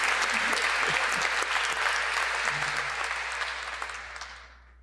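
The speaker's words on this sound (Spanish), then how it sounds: "Un aplauso." A church congregation applauds during a homily, sustained dense clapping that carries evenly and then fades away over the final seconds.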